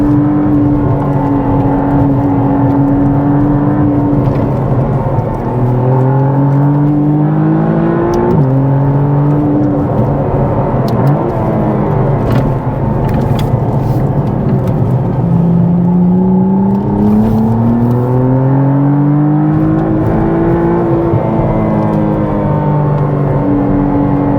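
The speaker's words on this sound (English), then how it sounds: "There's so much power that the wheel spins." McLaren Artura with a 3.0-litre, 720 Nm twin-turbo engine accelerating hard on a mountain road with a bit of mud, its wheel spinning. Loud rising and falling engine pitch sweeps through several revving surges, steady and close for the whole stretch.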